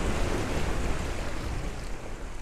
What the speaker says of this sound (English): So we're going to have a splashdown pretty soon